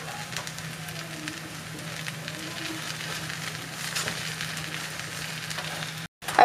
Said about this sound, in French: Je vais la laisser un peu cuire et au fur et à mesure, je tourne mon plateau